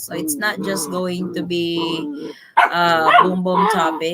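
Several dogs bark and yip indoors beneath a person talking continuously during a live chat, the barking mixed into the speech throughout.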